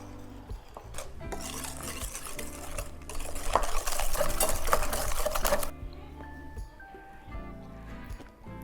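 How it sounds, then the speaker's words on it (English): Brownie batter with vanilla being whisked in a bowl for a gluten-free cosmic brownie, a steady close scraping and clicking that grows busier midway, then gives way to quieter handling. "And now we whisk."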